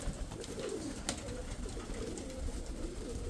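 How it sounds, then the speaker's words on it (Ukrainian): Pigeons coo in soft, repeated throaty calls, close and continuous, with light rustling and no talk. "Всі голуби практично в одній вісовій категорії."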